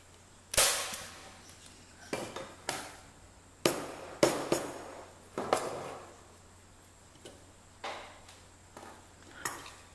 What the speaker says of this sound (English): Slide the permanent plug into the cage and secure it with a couple of staples.